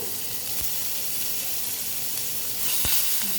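Ginger paste sizzles in hot oil with bay leaves in a pan for matar paneer, a steady close hiss with a couple of soft clicks and a louder burst near the end.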